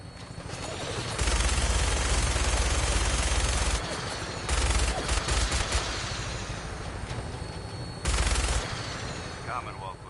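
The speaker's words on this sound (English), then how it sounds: "Minigun in front of you, loaded and ready to fire" Aircraft-mounted minigun firing in Fallout 4, three sustained roaring bursts of rapid fire separated by pauses, loud and close over a constant engine drone.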